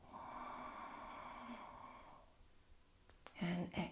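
A long, steady exhaled breath during a yoga spinal twist, fading out after about two seconds, followed by a couple of soft breathy sounds at the end.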